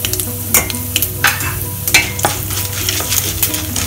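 Mustard seeds, urad dal, chana dal and cashews sizzle in hot oil in a pan, a steady crackling fry broken by sharp scraping strokes of stirring at irregular intervals, close and alone.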